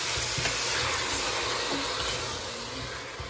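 Ginger and garlic fry with a splash of broth in a sufuria, a steady broadband sizzle and crackle running throughout, close and fairly loud, easing slightly toward the end.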